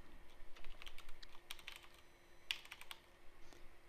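Quick, light keystrokes on a computer keyboard come in irregular bursts, quiet and close, with no voices over them.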